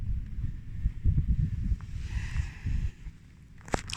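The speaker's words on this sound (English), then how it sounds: "Little bit of wind now and then, but pretty nice." Gusty wind buffets the microphone outdoors on a lake beside a small barrel boat, low rumbling bursts rising and falling irregularly, with no talk.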